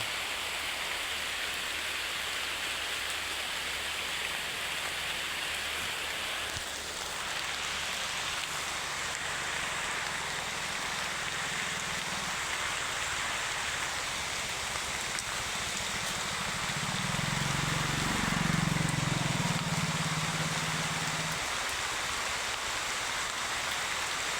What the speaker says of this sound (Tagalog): Umuulan na, lakas na ulan.